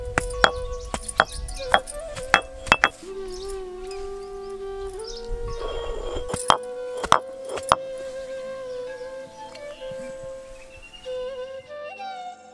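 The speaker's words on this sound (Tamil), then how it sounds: "வெல்லத்தை நுணுக்கி எடுத்துக்கலாம்" Jaggery being broken up for kodo millet pongal, sharp irregular knocks and cracks clustered in bursts over a steady ringing kitchen tone, close by.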